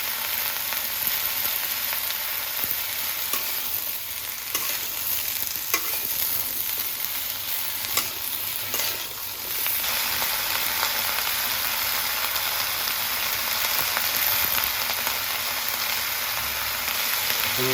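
Washed vegetables and chilies sizzling in a hot frying pan with a steady, dense hiss that runs continuously, broken by occasional stirring scrapes and brief crackles, close and fairly loud.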